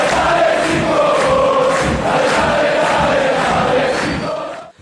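A short channel jingle for a Criciúma football show plays with loud stadium crowd chanting throughout, a rhythmic pulsing bed that stays full and steady before fading out at the end.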